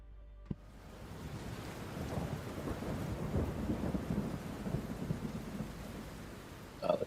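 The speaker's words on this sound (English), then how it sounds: "a couple minutes into the storm, as rain is pouring down all around you guys and lightning is flashing overhead" A thunderstorm ambient sound effect played during a tabletop role-playing session: a sharp crack opens, then a long, deep rolling rumble of thunder builds over steady pouring rain, with another burst near the end.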